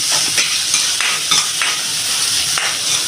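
Finely chopped onion frying over high heat in a pan for a wheat veg momo filling gives a steady, loud, hissing sizzle, with a few soft scrapes of stirring throughout and no voices.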